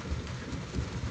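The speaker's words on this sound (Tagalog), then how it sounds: "Umuulan sa labas ah." Steady rain falls outside, a continuous broadband hiss with a faint low rumble and no distinct drops standing out, evenly loud throughout.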